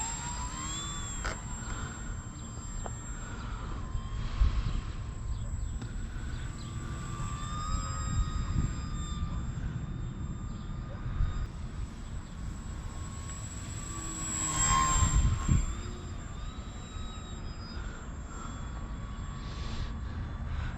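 A RACores Yak55 RC airplane flies on a Venom 430 pack in a light crosswind, its steady high electric whine holding throughout at moderate distance and swelling briefly as it passes near, with broadband wind rumble underneath.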